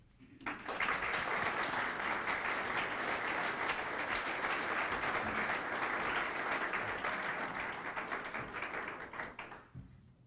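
An audience at a lecture welcomes speaker Robert Eisenman with steady, full applause that swells quickly, holds for about nine seconds, then tapers off.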